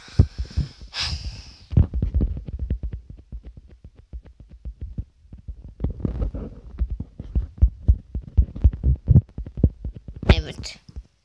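A muscle stimulator device runs with a steady throbbing pulse, rhythmic low beats repeating through most of the stretch, with a brief gap before the pulsing resumes.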